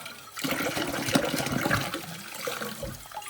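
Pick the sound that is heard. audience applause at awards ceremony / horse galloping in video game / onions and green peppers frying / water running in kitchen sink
water running in kitchen sink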